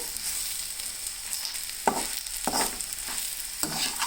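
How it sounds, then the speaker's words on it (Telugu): Chili powder frying in oil over a low flame for a beans curry, with a steady soft sizzle broken by several brief scraping stirs, close by and without talk. "సిమ్లో పెట్టి 1 నిమిషం పాటు ఫ్రై చేసుకుంటే ఆ కారం అనేది నూనెలో ఫ్రై అవుద్ది"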